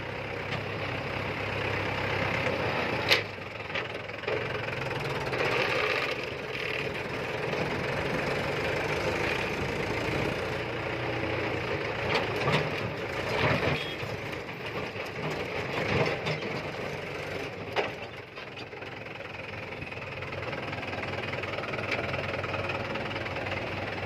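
A Mahindra tractor with a tipper trailer idles and runs steadily nearby while soil is loaded by a JCB 3DX, a continuous rumbling engine with occasional knocks and clatter.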